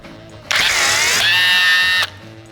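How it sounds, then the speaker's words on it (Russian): A cordless screwdriver whirs loud and close for about a second and a half, its motor pitch shifting midway as it works to unscrew a bolt, with no talking. "будем откручивать шуруповертом"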